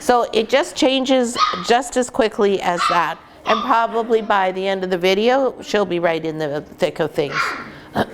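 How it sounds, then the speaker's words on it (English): Young puppies yip, bark and whimper in the background while a person talks steadily over them in the foreground. "You can hear the other puppies in the background."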